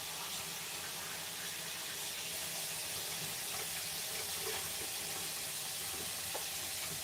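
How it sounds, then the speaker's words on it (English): Hot tap water runs steadily into a glass jar, a continuous close hiss and splash of filling liquid with no talking. "Just fill it up with hot water."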